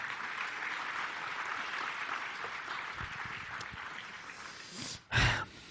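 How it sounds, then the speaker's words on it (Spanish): A church congregation claps in a soft, moderately distant wash of applause that fades toward the end, followed by a brief breathy burst close to the microphone. "Un aplauso."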